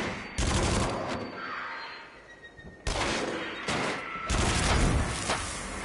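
Gunfire in the video game Until Dawn: Rush of Blood, loud bursts of rapid shots in two long volleys separated by a short lull, with a brief gap inside the second volley.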